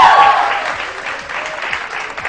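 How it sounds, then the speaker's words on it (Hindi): Studio audience applause on a Pakistani morning show, a loud, dense wash of many hands clapping that starts strong and eases slightly, with a faint voice briefly audible over it. "तो A प्लस की इस काविश के लिए बहुत सारी तालियां।"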